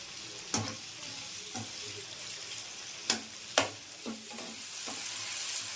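Green chillies and dried red chillies fry in hot oil in a pan, a steady close sizzle broken by several sharp stirring clanks and scrapes.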